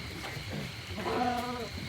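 Goats being loaded into a truck in a rush during heavy rain in Konkan, with a single near, wavering bleat standing out midway over a steady murmur of background noise.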